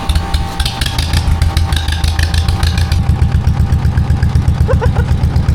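An old classic tractor engine runs with a muffler fitted on a cold farm day, its loud, rhythmic chugging pulses steady and close throughout, with a brief clattery tick near the end.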